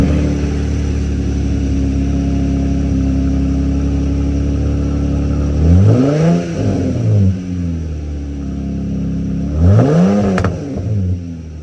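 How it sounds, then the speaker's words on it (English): A Jeep engine with a new exhaust idles with a deep rumble, then revs hard twice, the exhaust roaring up and settling back down, close and loud. "So you just heard what the exhaust sounds like."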